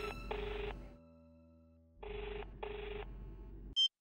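A telephone rings unanswered in a drama scene, sounding two separate bursts of ringing with a pause between them. The ring is moderately loud over a low hum and ends with a brief click.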